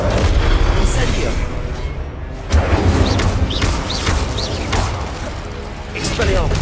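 Spell blasts thud and crackle in a Hogwarts Legacy fight, including the Incendio fire spell, as repeated booming impacts and whooshes over dense combat noise, with a few short bursts rising above the clutter.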